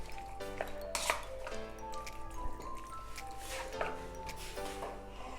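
Chicken pakora marinade being mixed in a bowl, with steady soft squishing and clinks of a utensil against the bowl under continuous background music.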